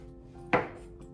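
A single crisp knife chop through green pepper on a cutting board, one short close thud standing out against a quiet background.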